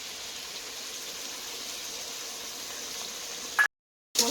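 Duck meat fries with a ground paste of cumin, coriander and chili in a pan, a steady close bubbling sizzle that runs evenly before cutting off abruptly near the end.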